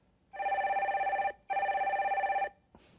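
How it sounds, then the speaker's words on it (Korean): A telephone rings twice on a broadcast call-in line, two clear, loud, trilling bursts of about a second each with a short gap between them, then a faint click as the call is picked up. "전화 연결 빨리 해주세요."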